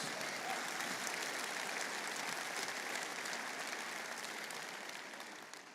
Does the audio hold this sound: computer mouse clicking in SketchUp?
no